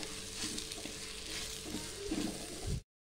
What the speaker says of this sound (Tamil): இப்போ அடுத்து நம்ம எண்ணெயில் வதக்கி வச்சுருந்த பாவக்காயை சேர்த்துக்கலாம். சேர்த்து கலந்து விட்டுக்கலாம்.